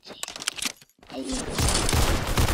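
Gunfire in the Roblox game Arsenal: a quick scatter of shots, a brief pause, then a dense sustained burst of rapid automatic fire, loud and close.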